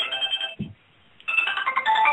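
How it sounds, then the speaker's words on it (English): A cell phone ringtone plays as an electronic melodic ring in two bursts with a short gap between them, clear and close with no talking. "excuse me, fellas, the cell phone, I just have to turn that off"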